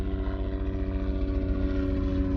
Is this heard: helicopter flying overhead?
yes